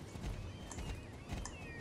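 Horse hooves clip-clop in the online riding game Star Stable, a faint quick rhythmic series of hoofbeats with no talk over them.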